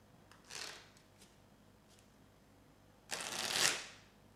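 Playing cards being shuffled by hand in two bursts, a short riffle then a longer, louder one building to a crisp finish, close and clear with no talk.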